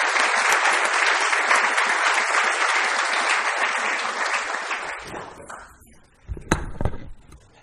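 Audience applause for speaker Will Steffen at an Auckland talk: dense, sustained clapping from a sizable crowd for about five seconds, fading out into a few scattered knocks and handling sounds.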